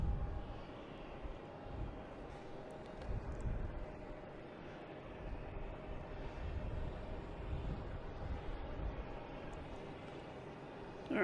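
An American Airlines jet from Miami descends over Pleasure Bay toward Logan Airport at dusk, a low, steady engine rumble droning continuously at moderate distance with no voices.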